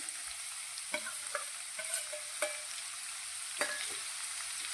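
A diced medium onion sizzles in hot oil as a tempering for an okra dish, a steady close frying hiss broken by several scraping stirs of a spoon, with no talking.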